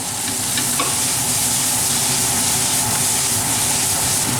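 Red capsicum stir-frying with tofu and vegetables in a hot pan, a loud, steady sizzle and hiss with faint stirring scrapes and no talking.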